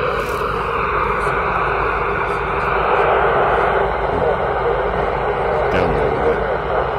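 An amateur radio voice transmission from the ISS, picked up during a low satellite pass, comes through buried in steady loud hiss and static, with faint speech audible throughout.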